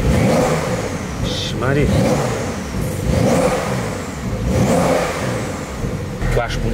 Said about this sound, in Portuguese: Dá uma aceleradinha.